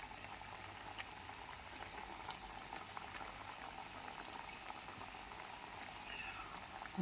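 Oil heating in a pan with onions for teatime snacks, a steady, faint sizzling hiss that stays even throughout, with no speech.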